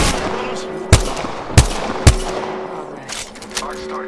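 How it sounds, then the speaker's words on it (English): Gunfire in Apex Legends, three sharp, loud single shots at regular intervals over a steady background, with fainter shots following. "Taking fire, brothers!"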